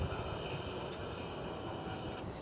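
An airliner finishing a 10-hour-44-minute flight from Tokyo and arriving at DFW Airport, heard as a steady, close jet-engine roar with a faint high whine, unbroken by talk.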